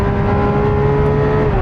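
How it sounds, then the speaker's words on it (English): A Lamborghini Aventador SVJ accelerating hard, a loud steady engine roar with whining tones held throughout, no voices. "Whoa, the gear changes. Hard."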